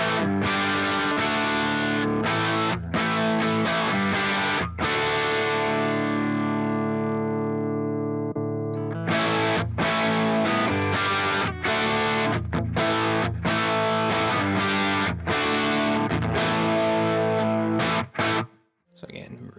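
Electric guitar through an Axe-FX amp modeler set to an edge-of-breakup tone with a Dunlop ODS 100 amp model and a 4x12 cabinet, played as sustained chords and then choppy rhythmic strums, loud and continuous, with no talking.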